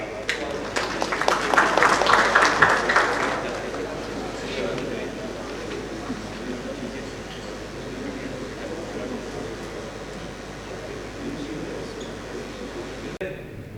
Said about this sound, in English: give a big round of applause to Mr. Fahad Zahid to come on the stage